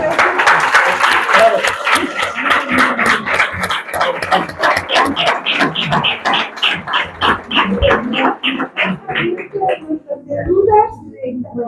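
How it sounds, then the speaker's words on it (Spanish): A room full of people applauds, steady clapping that thins out and fades toward the end, with some voices mixed in. "Pero vamos a aplaudir primero."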